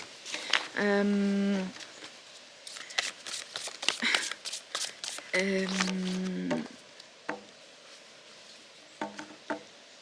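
Playing cards are shuffled in quick, papery riffling bursts while someone speaks intermittently over them, before a single card is drawn; the shuffling is close and fairly soft.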